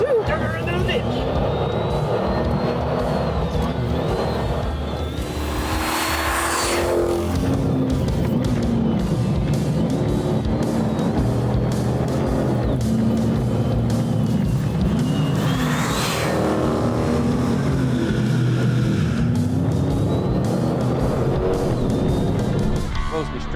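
A supercharged Dodge Charger running hard on a race track, its engine roaring loud and continuous with rising and falling revs as it passes, while excited voices shout over it.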